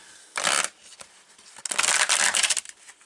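A deck of tarot cards is shuffled in two bursts, a short riffle then a longer rustling run, close and fairly loud with no talking.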